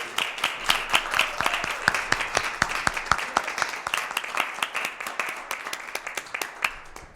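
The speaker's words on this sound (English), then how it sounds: "now we can give one big round of applause for all of us" Applause at a school district board meeting: a small group claps, with sharp individual hand claps clearly distinct as they repeat quickly, then gradually thin out.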